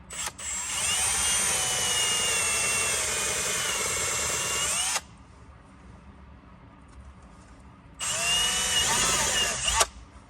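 A step drill bit boring through metal, a loud, high, whining power-drill run of about five seconds, a pause with low background noise, then a second shorter burst that ends with a clatter.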